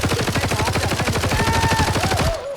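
Rapid bursts of automatic gunfire in the video game Arena Breakout, loud and continuous, with a rising whine near the end as the shooting stops.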